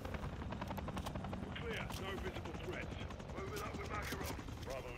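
Helicopter rotor noise in Call of Duty: Modern Warfare 3, a steady loud whir running throughout with mechanical clatter and possible gunfire mixed in, and game dialogue heard over it.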